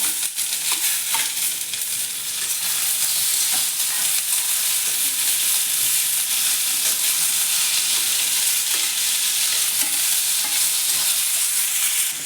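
Curry leaves and tomato fry in a pan for black-eyed pea bassaru, giving a loud, steady hiss of sizzling oil with faint stirring scrapes running throughout.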